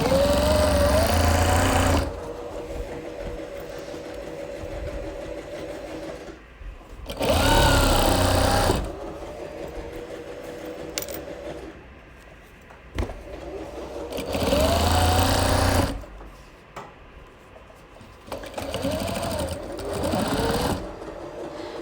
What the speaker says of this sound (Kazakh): Енді мына замок жетпей қалған жерін до конца тігіп өтеміз.